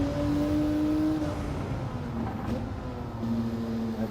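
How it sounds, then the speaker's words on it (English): A racing car engine drones steadily in Gran Turismo 7, a loud continuous hum with slight pitch shifts as the car holds speed, no talk over it. "Hope the engine's not too loud."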